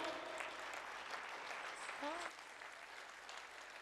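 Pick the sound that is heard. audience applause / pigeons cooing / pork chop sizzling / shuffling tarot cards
audience applause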